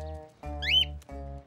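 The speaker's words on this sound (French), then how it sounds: "Poc, tu nous embrouilles quand tu siffles." A cartoon character whistles a short rising-and-falling tune over a sustained musical backing, one brief clear whistle in the middle of the passage.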